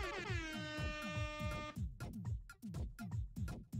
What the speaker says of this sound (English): Angry air horn.